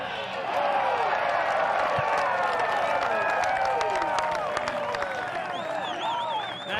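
A golf gallery at Cypress Point erupts in sustained loud cheering and applause after a hole-in during Walker Cup singles, dense continuous clapping and shouts filling the air with a commentator talking over it.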